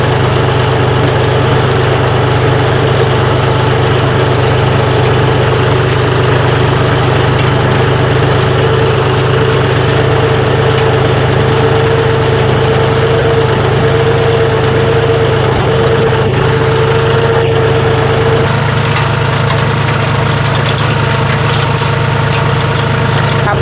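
A tractor engine running in a farm field during cumin sowing, a loud steady low drone with a constant mechanical hum that shifts slightly in tone near the end, close and alone with no talk.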